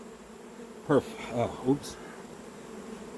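Bees buzz around an open beehive during formic acid treatment, with a few short close buzzing bursts passing by over a low hum.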